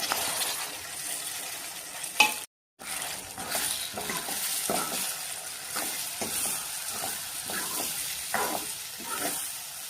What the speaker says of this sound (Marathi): आता आपण त्याच्यात पीस टाकून घेऊया.